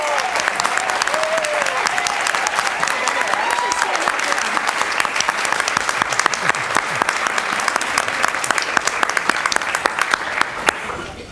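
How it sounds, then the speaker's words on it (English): Sustained applause from an audience at a school board meeting as teachers in the crowd stand to be recognized; steady, dense clapping throughout, close and loud, with scattered voices underneath. "If you could stand up, we can clap for you."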